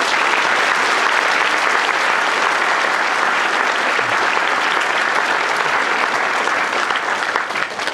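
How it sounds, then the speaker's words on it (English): Sustained applause from an audience at a school prize-giving ceremony, dense and steady clapping filling the hall for the whole stretch without a break. "we welcome them with this round of applause."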